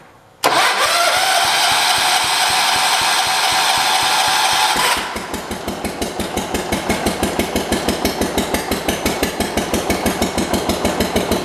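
A 1977 John Deere 212 lawn tractor that sat for four months cranks with a loud steady starter whir for several seconds, then catches and settles into a close, rhythmic chugging idle.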